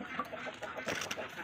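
A hen clucks and cackles after laying an egg, in short repeated bursts, fairly faint, with some background noise around it.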